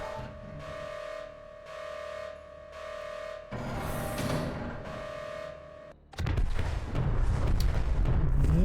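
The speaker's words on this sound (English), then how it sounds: "I didn't expect them to have a full-on explosion animated for this." A submarine is destroyed in a Subnautica mod game, with a periodic humming tone giving way to a rushing blast and then a loud, dense, crackling explosion rumble that fills the last few seconds.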